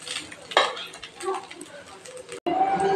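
A spoon clatters and scrapes through brinjal egg rice in a pan, giving a few close metallic knocks and stirring sounds over a short stretch, with a faint voice in the background.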